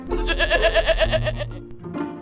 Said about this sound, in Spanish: las cabras